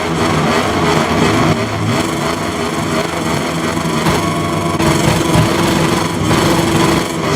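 KTM MotoGP race bike engines roar in a MotoGP video game at the Phillip Island Grand Prix start, a loud, dense, sustained high-pitched revving drone from a pack of bikes, with no talk.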